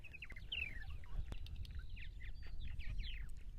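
Purple martins call outdoors on eastern Long Island, a few rapid chirps and gurgling notes repeating over steady low background rumble, moderately faint.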